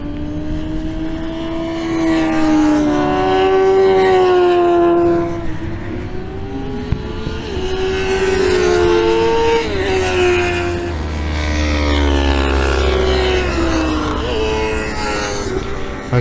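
Racing motorcycles scream past on Snetterton Circuit, engine notes rising and falling in pitch as several bikes sweep by one after another, loud and close, with a deep rumble building toward the end.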